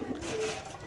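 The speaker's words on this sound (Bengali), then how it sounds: "এখানে আছে আরেকগুলো হোয়াইট রেসার কবুতর" White racer pigeons coo softly in a cage at a bird market, a short low throaty murmur heard close with faint background noise.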